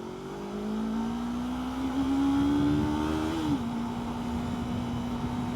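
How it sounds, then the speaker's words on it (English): A Yamaha R3 motorcycle pulls through traffic, its engine note climbing steadily under acceleration, then dipping briefly at a shift before settling into a steady drone, loud and close over wind and road noise. "Rushing through the traffic on Yamaha R3 like that, as if it's nothing."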